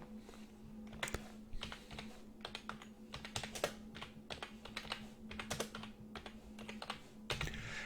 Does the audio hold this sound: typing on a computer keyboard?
yes